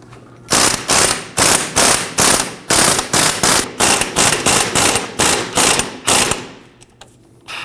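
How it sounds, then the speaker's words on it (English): A ratchet being cranked to tighten a bearing installer, pressing a front wheel bearing into the steering knuckle of a 1993-2001 Subaru Impreza. Loud, close, rhythmic bursts of rapid clicking repeat about a dozen times, then stop. "With our bearing installer on, go ahead and tighten this down and pull our bearing into the knuckle."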